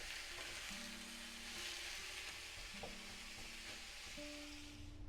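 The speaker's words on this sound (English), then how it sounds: "Break it apart and let it cook completely" Crumbled Italian sausage meat frying in a pan for manicotti filling, a soft continuous sizzle with a few faint utensil taps, quiet and close, no voices.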